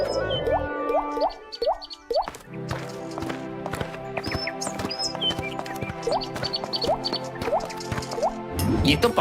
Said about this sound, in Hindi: ये तो पानी की बूंदे हैं,